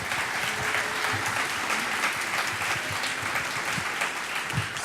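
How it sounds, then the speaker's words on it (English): Conference audience applauding a panel at a convocation discussion, a full dense round of clapping that holds steady and loud for several seconds, with faint crowd murmur beneath. "Let's give our panel a round of applause."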